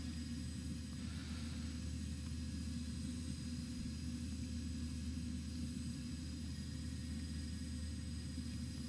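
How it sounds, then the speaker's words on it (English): A simulated airliner rolls for takeoff in X-Plane 11, a constant low engine rumble and drone that stays even and fairly quiet the whole time. "We're back taxiing. We're taking off."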